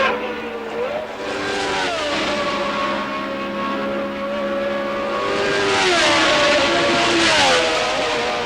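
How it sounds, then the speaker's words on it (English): Formula One race cars scream through a lap at the Canadian Grand Prix in Montreal, their high engine notes rising and falling as they pass and shift gears, loud and continuous with a commentator talking over them. "Jones and Villeneuve leading as they come through to complete another lap shortly"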